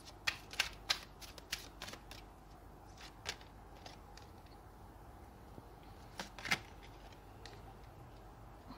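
Tarot oracle deck cards shuffled by hand in a quiet room, a string of crisp riffling flicks and snaps that come in short bursts with pauses between them, close and fairly soft.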